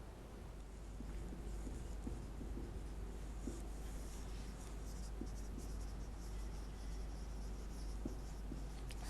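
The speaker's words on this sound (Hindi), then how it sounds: "उसके बाद में लिखेंगे हेडिंग सेकेंडरी प्रीफिक्स" Scratchy strokes of a heading being written on a board in a chemistry class, short irregular scrapes and taps repeating steadily over a constant low hum and room hiss, fairly close, with no talking.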